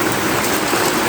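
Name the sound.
rain pouring down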